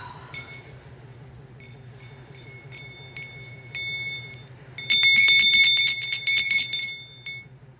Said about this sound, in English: I do need my bell.